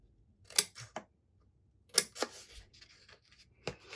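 Scissors mitering the edges of paper for a chocolate bar box, heard as several quiet, close snips in short groups separated by pauses.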